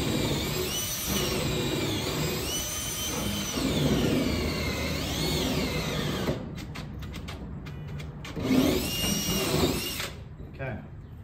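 A power drill with a long bit bores through a wooden wall stud while running a doorbell camera wire, whining loudly and continuously with pitch wavering under load, then stopping and restarting in short bursts near the end.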